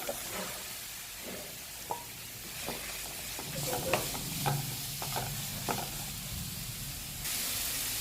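Two large chopped onions sizzle and fry in a pan with crushed green chilli while being stirred, a steady low hiss under irregular scraping and clinking strokes of the spoon, close and fairly quiet, for a Malabar chattipathiri filling.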